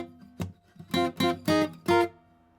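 Four strummed guitar chords on a riff, played clearly and close up after a single pick, with short gaps between the strums.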